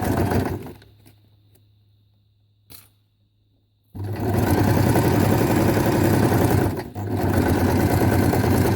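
A sewing machine stitches through stacked paper notepads made from cash register receipts, backstitching at the start and end: near-silence, then a loud, steady, rapid mechanical whirr that runs for several seconds with one brief dip.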